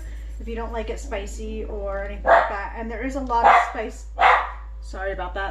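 A dog barks a few times in a home kitchen where spicy soup with red pepper flakes is being made, the yips and barks fairly close and mixed in with steady talking.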